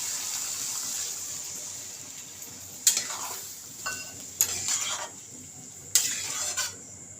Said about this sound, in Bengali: আমি 1 বাটি মতো জল দেবো